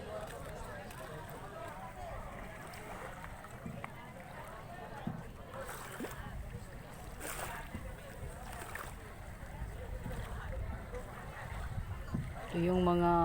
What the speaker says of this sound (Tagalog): Ito yung mga pump boat ng mga mangingisda.